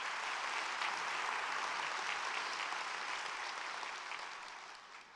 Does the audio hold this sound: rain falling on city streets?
no